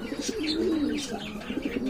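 A male red checker pigeon coos close by, a low throaty rolling call repeated in a couple of swells, with faint higher chirps from other birds in the background.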